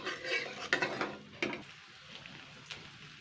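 Fried potatoes stirred in a pan while fish-roe curry is being prepared, making scraping, clinking utensil strokes over a soft frying hiss, with louder scrapes at intervals and no talking.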